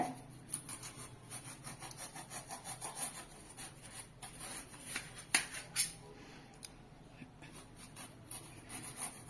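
A knife scraping the skin off a raw plantain, repeated short rasping strokes in a steady rhythm at close range, fairly quiet with a few sharper scrapes.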